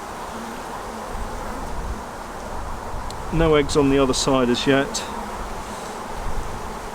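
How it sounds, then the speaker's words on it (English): Honey bees buzz steadily at close range in a small colony during queen rearing with a newly laying queen, a soft continuous drone running throughout beneath a person talking. "Not so many bees in this colony"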